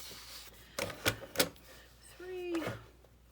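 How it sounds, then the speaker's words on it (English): Paper is cut for a journal pocket page, giving a few sharp snips in quick succession followed by a brief sliding cut, close and fairly quiet, with a voice in the background. "I think I'm going to cut this side."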